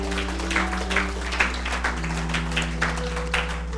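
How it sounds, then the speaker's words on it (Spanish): A church congregation breaks into steady applause during a Spanish-language service, with a continuous patter of many hands under a sustained organ or keyboard tone. "Dale un aplauso al Señor."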